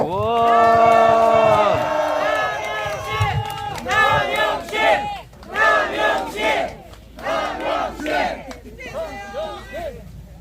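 A rally crowd at a press conference roars and shouts in a loud sustained cheer, then breaks into chanting bursts and scattered yells that rise and fall over several seconds.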